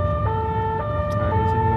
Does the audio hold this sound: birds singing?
no